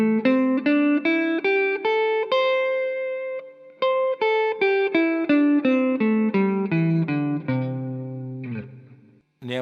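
Guitar plays a pentatonic scale phrase beginning on the third, a run of clean plucked single notes stepping up then back down, with a brief scrape of string noise at the end.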